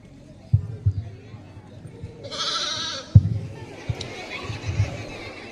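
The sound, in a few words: sheep bleating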